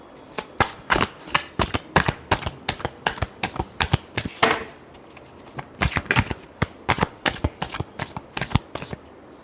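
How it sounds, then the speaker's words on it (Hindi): Tarot cards are shuffled by hand in quick riffling bursts, a dense run of sharp papery slaps over about nine seconds, close and steady with no talking. "Last shuffle."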